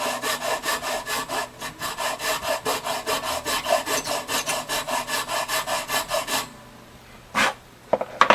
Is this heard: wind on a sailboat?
no